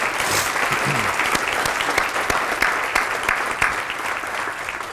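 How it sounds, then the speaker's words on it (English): Audience at a human rights awards ceremony applauds an honor guard from the Virginia Beach Sheriff's Office, a warm, continuous wash of many hands clapping with a few louder claps standing out. "Please give a very warm round of applause to our Virginia Beach Sheriff's Office Honor Guard"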